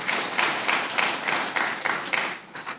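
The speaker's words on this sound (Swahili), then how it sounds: "tumpige makofi mengi" Audience applause breaks out for a regional commissioner's speech to councillors, with steady clapping that rises and falls in rhythmic waves throughout and stays fairly close and even in volume.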